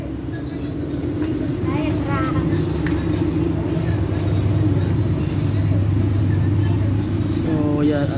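A Yamada 13 horsepower engine idles steadily while warming up, a continuous low mechanical drone running loud and close throughout, with faint chirps over it.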